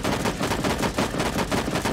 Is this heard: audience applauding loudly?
no